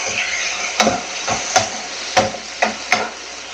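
Tomatoes are stirred in a frying pan for cauliflower curry, and a spatula knocks and scrapes against the pan about five times in an uneven rhythm over a soft, continuous sizzle.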